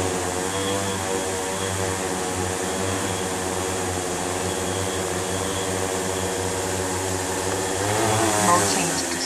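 An RCTimer Tri Trooper tricopter takes off and flies, its propellers producing a steady, loud, close buzzing drone with several whining tones that rise slightly near the end.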